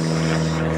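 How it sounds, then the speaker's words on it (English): An airplane passes overhead with a steady, droning propeller hum and a strong low tone, loud and continuous across a brief moment. "There's an airplane going by."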